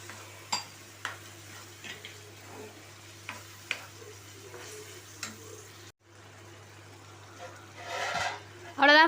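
Water is poured into a pan of black pepper liver frying on the stove, with a rising splash and sizzle near the end after scattered stirring clinks from a spoon against the pan.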